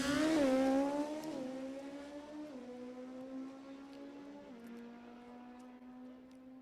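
A drag racing car at Lebanon Valley Dragway streaks past in a loud engine howl that drops in pitch in steps as the driver lifts off the throttle, fading steadily into the distance with no talk over it.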